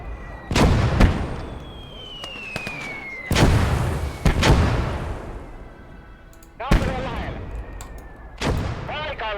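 In a wartime battle game, a 75 mm gun fires several loud, close, sharp booms spaced a few seconds apart, each trailing off into echo, while voices sound faintly between the blasts.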